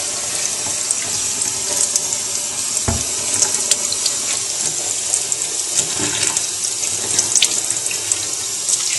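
Running water pours steadily over a motorcycle part, rinsing away old oil and dirt in a continuous close splashing hiss with a few sharper drips and knocks.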